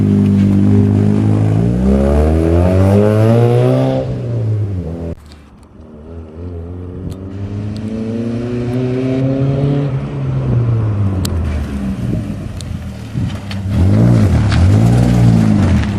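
A turbocharged Mazda MX-5 engine revs hard, its pitch climbing and falling in repeated sweeps, with a brief dip midway before roaring up again, loud and close.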